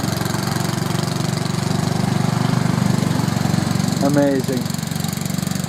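An old tractor engine runs loudly and close with a steady, throbbing mechanical drone as its governor opens the throttle, and a voice briefly speaks over it.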